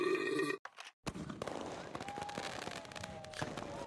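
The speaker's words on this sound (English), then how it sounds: "He lit fireworks." Fireworks go off in a rapid string of crackling pops and bangs after a short burst of other sound, dense and fairly distant, with a rising whistle running through.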